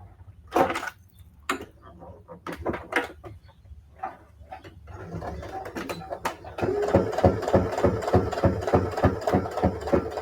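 Sewing machine stitching fabric, with a few short bursts of stitching and pauses, then a steady fast rhythmic chatter of the needle running close and continuously.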